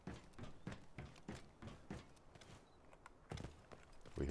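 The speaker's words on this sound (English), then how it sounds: "We hear footsteps out there." Footsteps in the tactical shooter Delta Force, a faint run of soft, irregular steps at a distance, with a louder thud near the end.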